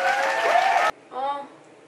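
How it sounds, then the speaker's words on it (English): Short burst of canned applause from a sound effect, loud and dense for under a second before cutting off abruptly, followed by a brief voiced exclamation. "Cue applause effect."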